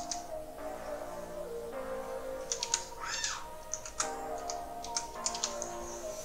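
Computer keyboard typing as an account number is entered, a handful of quick, crisp key taps in short clusters, close and fairly quiet above faint background hum.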